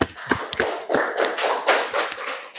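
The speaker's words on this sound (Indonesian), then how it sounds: "Tepuk tangan dong untuk kita semua" A small group claps briefly, a few scattered, uneven hand claps close by with no talking.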